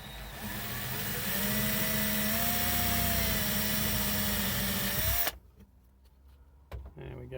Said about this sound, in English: and I'll just drill the hole.